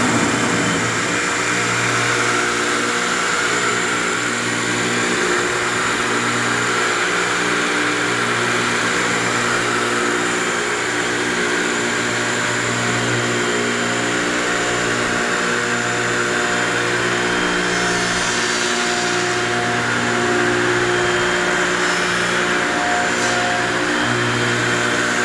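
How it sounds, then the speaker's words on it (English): A Stegherr KSF-2 closed halving joint machine with a programmable Accustop fence runs continuously at a steady idle. It gives a constant, loud mechanical hum with a whining motor drone and no talk. "So we're gonna turn this machine on."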